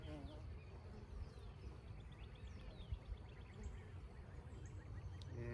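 Honeybees hum around an open hive during an inspection after a colony split, a soft continuous buzzing with individual bees passing close, faint overall, and a person speaking quietly now and then.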